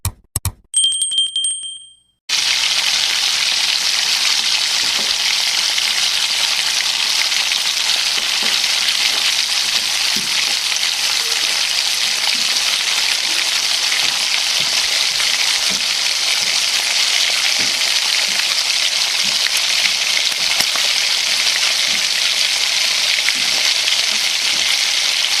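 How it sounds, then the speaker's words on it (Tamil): Sweet bonda batter fries in hot oil with a continuous, even sizzle and bubbling, loud and close, after a brief ringing metallic tone at the start. "ஸோ எண்ணெய் சூடானதுக்கப்புறமா நாம் அந்த ரெடி பண்ணி வச்சுருக்க அந்த மாவை எடுத்து இதில் ஊற்ற ஆரம்பிச்சிடலாம்"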